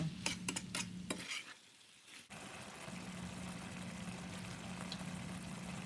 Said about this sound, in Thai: ปรับไฟมาเป็นไฟกลางเหมือนเดิมค่ะ แล้วก็ผัดหมูกับเครื่องแกงให้เข้ากันค่ะ